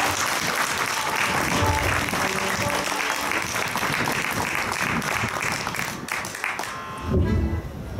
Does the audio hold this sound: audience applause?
yes